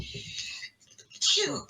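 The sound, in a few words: sneeze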